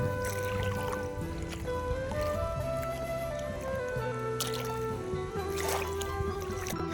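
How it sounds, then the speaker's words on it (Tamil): Steady, full rush of water flowing at Pechiparai Dam in Kanyakumari, continuous and even throughout, with no voices. "தண்ணியோட சவுண்ட் வந்து சூப்பராக இருந்துச்சு"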